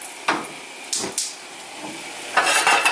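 Butter heats in a pan for Lebanese fatteh, giving a soft, faint sizzle broken by a few sharp clinks and scrapes of a utensil against the pan, with a busier patch of stirring near the end.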